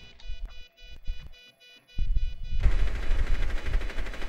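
Gunfire in an online first-person shooter game: a few sharp shots at first, then after a brief lull a dense, loud burst of continuous automatic fire and explosion-like rumble filling the rest.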